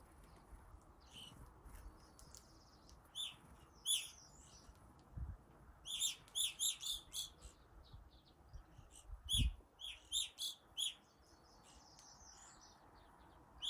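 Birds calling around a landscaping site, including robins and blue jays, with short bright chirps in scattered bursts over a faint steady outdoor background and a couple of low thumps.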